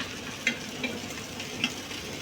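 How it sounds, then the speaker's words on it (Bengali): Hot garlic chow mein ingredients being stir-fried over a high flame, a soft, even sizzle broken by a few light metallic clicks of a spatula. "হিট ফ্লেমে হালকা নাড়িয়ে নিলাম"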